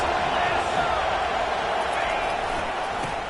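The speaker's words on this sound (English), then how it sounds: "this crowd is making it miserable on this offense" A steady, dense roar from a stadium crowd at a college football game on fourth down, continuous and loud beneath an announcer's voice.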